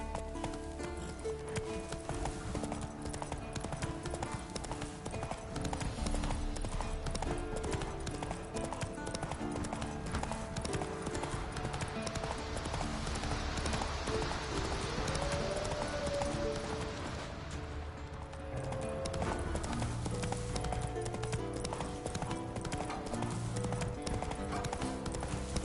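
Horse hooves clip-clop steadily in The Witcher 3 as the mount travels at a walk, the rhythmic footfalls running throughout under a continuous game music score, with a brief whinny-like tone midway.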